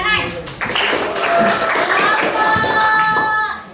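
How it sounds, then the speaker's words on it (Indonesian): Children in a classroom clap in a short burst of mixed, overlapping claps, with kids' voices chattering over it and a few bright tones ringing through. "Tepuk tangan"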